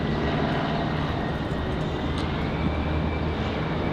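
An Air Canada airliner departs Raleigh-Durham International Airport, its engines a steady, loud, broadband roar with a low hum that holds evenly throughout, no voices.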